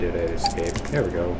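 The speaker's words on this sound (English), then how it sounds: "That's the sound of money being spent." Coins drop in a car mechanic video game as money is spent, a brief metallic jingle of clinks under someone talking.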